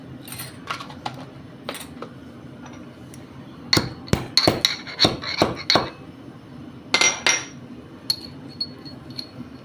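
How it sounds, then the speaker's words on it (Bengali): Three cardamom pods being crushed for masala tea: a quick cluster of sharp, close pounding knocks, followed by a few more scattered hits and light clinks. "3টে এলাচ নিলাম, এলাচটাও থেতো করব।"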